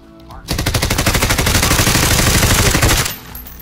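Automatic gunfire in Modern Warfare, a loud close burst of rapid rhythmic shots lasting about two and a half seconds before cutting off.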